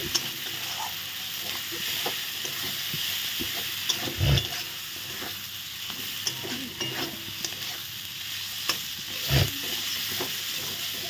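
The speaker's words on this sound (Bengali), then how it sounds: "মাছটা দিয়ে ভালো করে নেড়ে চেড়ে নিলাম।" Prawns for prawn malai curry frying in spiced masala, with a steady sizzle under repeated stirring scrapes and two heavier knocks of the spatula against the pan.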